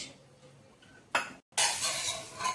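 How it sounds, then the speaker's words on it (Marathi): Flatbread roasting on a pan is flipped: a soft background sizzle, a sudden clatter of turning, a brief gap, then louder renewed sizzling and scraping. "पण छान दोन्ही बाजूनी उलटं सुलटं करून भाजून घ्यायचं"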